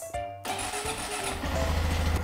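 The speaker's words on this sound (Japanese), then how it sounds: "エンジンをかけます。" A Honda Monkey 125 motorcycle engine starts: a short starter whir gives way to the engine catching and settling into a steady, close idle, with no talk.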